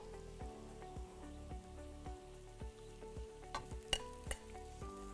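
Rice is tipped into a pan on low heat and stirred with vegetables and flakes for a vegetable au gratin, giving a steady soft sizzle broken by repeated scraping and clinking strokes of the spoon.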